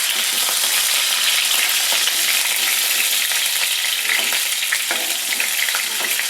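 Paneer pieces frying in a pan give off a steady, close sizzle with scattered light crackles and occasional scraping as they are turned.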